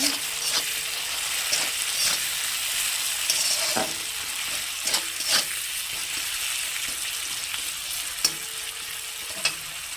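Egg curry masala for a Bengali egg dish sizzles in a pan with coriander and cumin powder, under a steady hiss broken by repeated scraping stir strokes and small clatters of the spoon; no voices.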